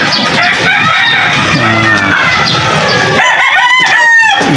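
Gamefowl rooster crowing loudly and close, several drawn-out crows overlapping among other fowl calls in a yard, with no talk.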